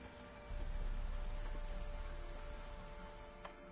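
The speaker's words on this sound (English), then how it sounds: "It's raining, Baron." Rain falling in The Witcher 3 game world, a soft, steady hiss that swells after a quiet start and continues evenly, with a faint tap near the end.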